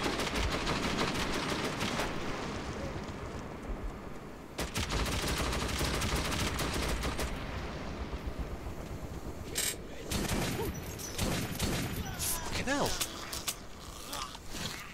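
Automatic gunfire crackles in repeated bursts from a weapon that only fires in bursts in the video game Metro 2033, dense and loud across the clip alongside mechanical clatter, with someone talking over it.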